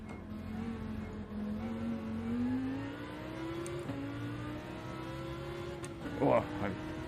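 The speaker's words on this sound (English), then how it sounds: "Oh, I bounced off the rev limiter." A race car in the Gran Turismo video game holds a steady, buzzing engine drone whose pitch slowly climbs, then stutters briefly near the end as it bounces off the rev limiter.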